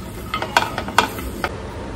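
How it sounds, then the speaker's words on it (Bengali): Peanuts frying in a little oil in a pan, with a soft steady sizzle under a handful of sharp stirring scrapes and clinks from a utensil, close and fairly loud. "বাদামটা প্রথমে একটু ভেজে নেব হালকা তেলে।"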